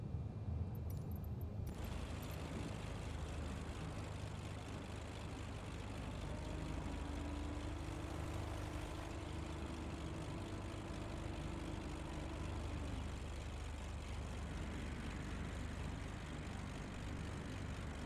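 Simulated Beechcraft propeller plane landing at Laughlin/Bullhead airport in Microsoft Flight Simulator 2020, a steady engine and propeller drone with a sustained low hum throughout, a brief click at the start.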